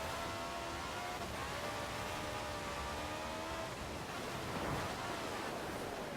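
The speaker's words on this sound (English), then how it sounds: "Just going to do some driving around so you can see what the driving is like in this game" A car drives through Forza Horizon 4 during an online session, its engine a steady, continuous drone blended with a broad rushing wind-and-road noise that stays even throughout.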